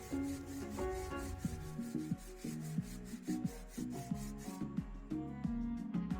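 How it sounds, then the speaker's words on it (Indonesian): A wooden door panel for a dongdang cabinet is sanded by hand after machine grinding, giving rapid, regular rasping back-and-forth strokes close up over a tonal melody playing underneath. "baru ini dilanjutkan dengan pengamplasan manual. Jadi biar permukaannya lebih halus lagi."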